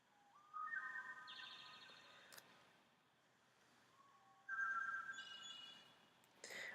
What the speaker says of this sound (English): I know most of you don't appreciate birdsong.